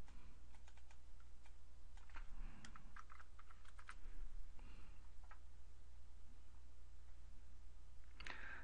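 Computer keyboard typing in quiet, irregular bursts of light key clicks over a low steady hum, with a pause near the end before a last cluster of clicks.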